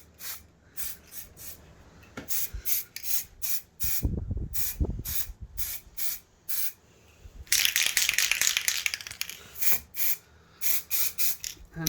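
An aerosol can sprays enamel paint onto a miniature battle board: a rapid series of short, sharp hissing bursts, one longer spray in the middle, and some faint handling rustle.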